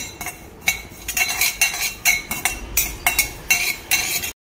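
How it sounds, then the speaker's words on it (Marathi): Cumin seeds dry-roasting in a pan while being stirred, with repeated light metallic scraping and clinking strokes in a steady rhythm, close and fairly loud, no voices. "आता जिरं भाजून घेऊ। हलकंच असं भाजून घ्यायचं, खूप जास्त पण आपल्याला भाजायचं नाही।"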